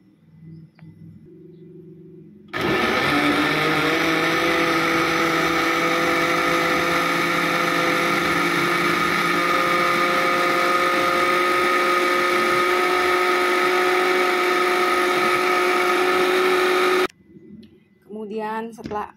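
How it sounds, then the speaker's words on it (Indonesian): An electric blender runs continuously for about fifteen seconds, whirring loudly as it purees a pumpkin mixture with coconut milk, with quieter background sounds before it starts and after it stops. "Nah, mari kita blender hingga halus."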